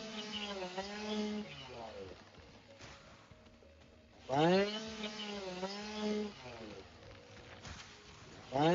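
Chainsaw cutting trees in the video game Satisfactory, with a raspy revving motor that swells in several loud bursts, mixed with a steady hum in the background.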